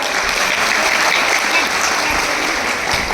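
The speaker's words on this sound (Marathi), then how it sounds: "याबद्दल सर्वांनी टाळ्या वाजवून त्यांचा धन्यवाद करा" Dense, sustained applause from a large audience at a gathering, a steady wash of clapping that stays loud throughout with no pauses.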